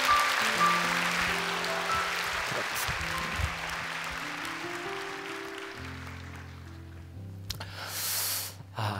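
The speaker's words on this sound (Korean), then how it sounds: "다시 한번 우리 축복하며 박수하겠습니다." A church congregation gives a blessing round of applause during a Korean sermon, dense clapping that starts loud and slowly fades over several seconds while keyboard tones sustain underneath and swell again near the end.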